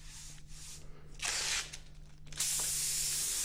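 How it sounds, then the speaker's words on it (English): An airbrush sprays pearl black Auto Air Colors paint in light base coats on a panel, giving bursts of close airy hiss that start and stop, with the last burst held steady, and no talk. "what I'm doing now is I'm spraying pearl black, using my black as a base coat"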